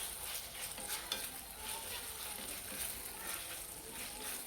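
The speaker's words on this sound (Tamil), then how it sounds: "நம்ம தக்காளி கொஞ்சம் குழையிற மாதிரி வதக்கிக்கணும்" Tomatoes and crushed garlic sauté in a pan for capsicum rice, giving a steady, close crackling sizzle with soft stirring scrapes throughout and no voices.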